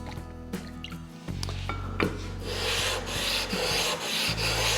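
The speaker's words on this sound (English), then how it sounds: "quickly stroke it across the flattening stone, make an assessment of the flatness" A water stone rubbed back and forth over a flattening stone gives a gritty, close scraping that runs steadily for several seconds after a few light knocks.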